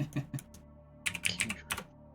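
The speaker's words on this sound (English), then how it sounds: "I'm typing." Keys clatter on a computer keyboard in quick irregular bursts, first a short cluster of taps, then a pause, then a denser flurry, close and clear with no talking.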